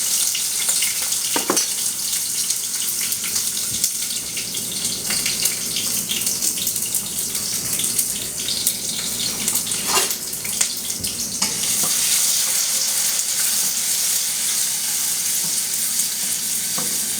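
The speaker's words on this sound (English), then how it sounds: "So we're gonna start frying the chiles." Chiles fry in a little preheated oil in a pan, with a steady, bright sizzle lasting throughout and occasional soft clinks and scrapes of stirring, no talking.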